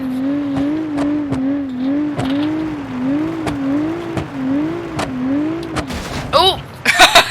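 A car drifting in the BeamNG.drive driving game, its engine note wavering up and down in a looping rhythm with sharp clicks and bursts, ending in rising squeals and harsh noise.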